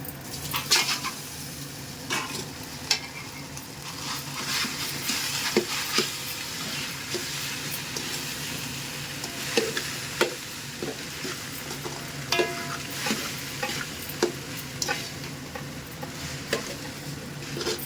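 Pasta being stirred in a hot pan gives a continuous sizzle broken by frequent clicking scrapes and taps of the spoon, close up and irregular in rhythm, with no one speaking.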